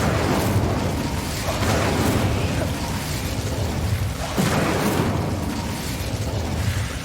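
Incendio fire spell from Hogwarts Legacy: loud roaring bursts of flame with a couple of sharper whooshing pops, continuous and close over a busy game background.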